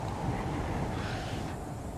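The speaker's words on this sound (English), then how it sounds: "Wow, it's getting windy." Wind gusts roar through The Forest video game, a broad, steady rushing that stays loud and constant for the full two seconds, with no voices over it.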